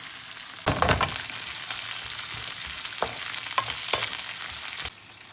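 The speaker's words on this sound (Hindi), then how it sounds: "इसके अंदर हमने जो भिंडी हमने ये धो के काटी थी, ये हम इसको फ्राई कर लेंगे" Chopped okra (bhindi) dropped into hot oil bursts into a loud sizzle, then settles into a steady crackling fry with occasional stirring pops before cutting off near the end.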